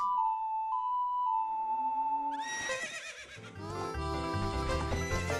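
A horse whinnies with a rising, wavering call in The Legend of Zelda: Ocarina of Time, followed by bright game music with a steady beat; no talking.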